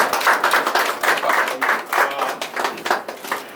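An audience claps at a Kapunadu gathering, a dense, sustained round of hand applause pulsing slightly in waves, fairly loud and close with no voices standing out.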